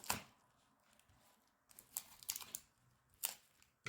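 Quiet sharp tearing and scraping bursts of packing tape being pulled off a roll and pressed down across the back of an assembled jigsaw puzzle, in a few short spurts.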